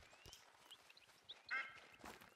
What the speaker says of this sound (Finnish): joku ankka täällä tai sorsa huuttaa.